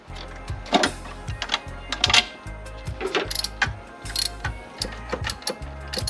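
Ratchet tightening bolts on the alternator of an MK4 Golf, with rapid clicking bursts in short repeated strokes, close and crisp, plus occasional metallic taps between them.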